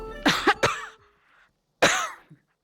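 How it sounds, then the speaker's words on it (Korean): A few harsh, close coughs from food going down the wrong way: two quick ones in a row, a third, then a pause and one more forceful cough with a small throat sound after. "그래서 사례가 자꾸 들려서 이 기침도 나고"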